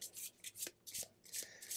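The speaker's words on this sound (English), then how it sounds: "We're gonna randomly shuffle these." A deck of cards for The 7th Continent board game is shuffled by hand, soft close riffling and rubbing in several quick bursts with brief pauses, quiet and with no talking.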